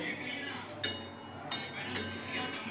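A metal lid goes onto a cooking pot of papaya and banana stem simmering in water, giving a few light metallic clinks over a low kitchen background.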